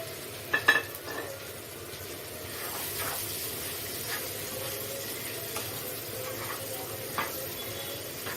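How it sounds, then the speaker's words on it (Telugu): Ridge gourd curry being stirred in a pan, a few scraping clinks of the spoon against the metal early on over a steady low sizzle, with softer stirring touches later. "ఇప్పుడు ఇలా కలుపుకొని కాసేపు మగ్గనిద్దాం"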